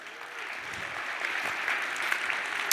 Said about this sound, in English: I'm gonna keep the tradition going with the water claps